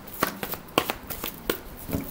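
Tarot cards being drawn and shuffled at close range, a series of short papery slaps and riffles spaced roughly half a second apart, with faint handling rustle between them and no talking.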